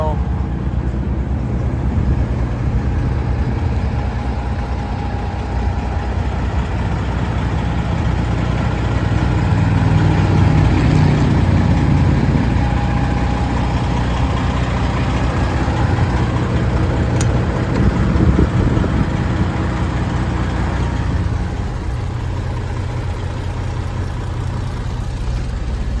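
Engine of a 2015 Kenworth W900L pre-emission glider truck idling, a steady low rumble held at close range for the whole stretch, with a person talking over it.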